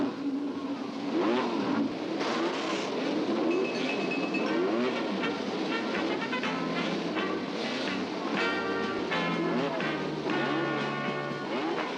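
Formula One race cars at the Canadian Grand Prix, engines revving and whining as they pass, with shifting pitches and overlapping cars, a dense continuous roar at a moderate distance and no talk.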